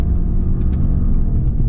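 Lifted 2020 Subaru Outback XT with turbo engine accelerating, heard from inside as a steady, dense low rumble with little change in pitch over a short stretch.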